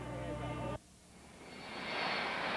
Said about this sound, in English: checking out the model planes at the DeLand Airport